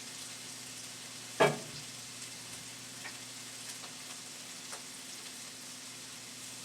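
Onions and garlic frying in bacon grease in a pan, giving a steady soft sizzle throughout with one sharp clatter early on and a few faint ticks, close and quiet.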